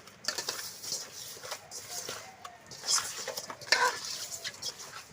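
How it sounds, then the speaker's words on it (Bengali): Fish is hand-mixed with turmeric and salt in a village kitchen. Soft, irregular squelching and patting continues throughout, with a couple of sharper clinks from a bowl, all close and fairly quiet. "মাছে হলুদ দিয়ে দিলাম, লবণ দিয়ে দিলাম, মাখিয়ে নিচ্ছি"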